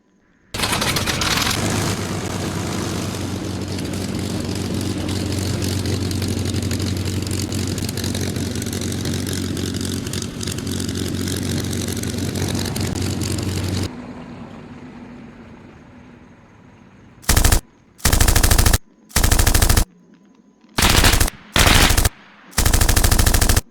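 A P-51 Mustang in the Arma 3 Flying Legends mod holds a loud, steady piston-engine drone that then cuts away and fades, followed by six short, sharp bursts of machine-gun fire separated by brief silences.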